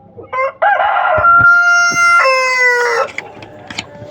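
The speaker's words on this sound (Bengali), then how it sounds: "এটা হচ্ছে কলম্বিয়ান লাইট ব্রাহ্মা, আর বাব ব্রাহ্মাও আছে আমাদের কাছে" A Colombian Light Brahma rooster crows loudly and close by, with a long drawn-out call and a second crow, plus brief clucks before and after.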